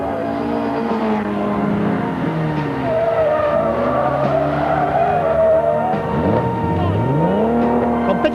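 Classic rally cars on a smooth circuit stage, including a Volvo P544 and a low-line Triumph TR4, roar past loudly with rising and falling engine notes, repeated tyre squeal and skidding, several cars overlapping.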